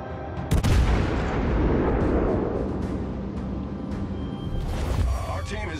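Warship naval guns fire in the video game World of Warships: Legends. A sharp, heavy blast sets off a long rumbling boom with a dense low roar, and further distant shots follow.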